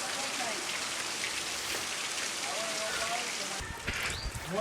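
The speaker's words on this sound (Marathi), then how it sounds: "आत आता पाऊस थोडासा कमी झाला आणि पंधरा ते वीस मिनटं पाऊस पडला" Steady rain falls and patters on surfaces nearby in a village, a continuous even hiss with a few louder drips toward the end.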